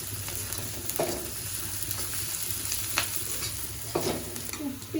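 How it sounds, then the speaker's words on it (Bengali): Onion and garlic fry in a pan with a steady close sizzle, broken by a few louder stirring scrapes near the start, middle and end. "পেঁয়াজ রসুন ভাজা হয়ে গেছে"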